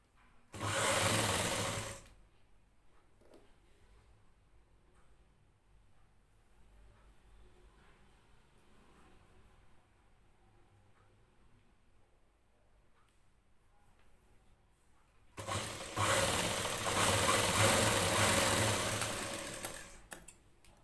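Sewing machine stitching plain blouse fabric, two loud mechanical whirring bursts, a short one at the start and a longer run near the end, with quiet pauses between.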